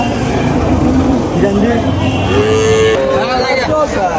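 A cow moos at a busy rural cattle market, with drawn-out lowing calls rising and bending in pitch over a few seconds, loud and near, set against market crowd noise and background chatter.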